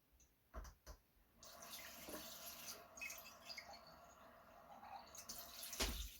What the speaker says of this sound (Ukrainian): я доливаю простої водички зверху